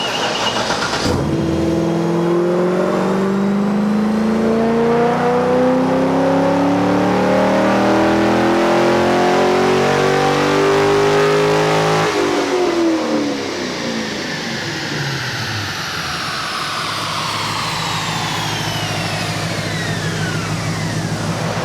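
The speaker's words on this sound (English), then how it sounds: "Can you listen to this video? What do you think's wrong with my car?" A car engine revs hard and rises in pitch over a dozen seconds before dropping back and settling into a steady idle, played loud and close with no talk.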